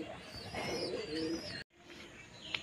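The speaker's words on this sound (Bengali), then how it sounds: "তো বন্ধুরা পায়রাই উঠছে এখনো" Pigeons coo softly at a rooftop loft as they feed, a steady low murmur with a short break, then quieter background and a faint sharp click near the end.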